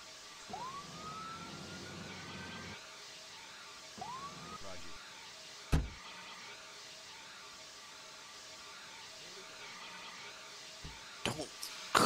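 Sirens wail in short rising sweeps from an ambulance in the Emergency 4 video game, two brief starts close together, followed by quieter game ambience and a few sharp clicks.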